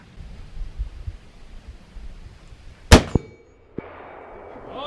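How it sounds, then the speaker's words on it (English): A single sharp rifle shot over iron sights rings out over quiet outdoor ambience, followed moments later by a faint metallic clang from a distant steel target. "let's see if I can hit that steel way out there just with these iron sights"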